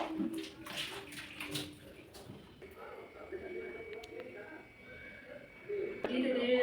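Water runs softly at home while something is washed, a faint steady splashing with a few drips, and people talk over it throughout.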